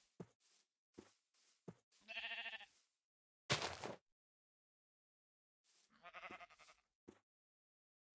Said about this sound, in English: There's sheep everywhere.